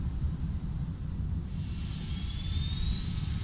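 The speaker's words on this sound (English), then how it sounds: "Alright, let's go ahead and start engines. So, we are going to start engine number" Jet engine number 2 of an airliner spooling up, a steady broadband roar with a rising high whine climbing through the second half, continuous and close.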